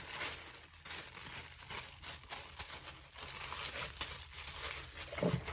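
Paper crinkles and rustles almost without a break for about five seconds, close up and moderately loud, as someone handles sheets while sorting yarn supplies into a box.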